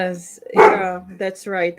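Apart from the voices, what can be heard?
dog barking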